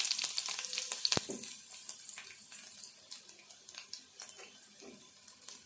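Onions and green chillies fry in a pan, a soft, fairly quiet sizzle with scattered crackles and a few stirring scrapes, one sharp clink near the start, no voices.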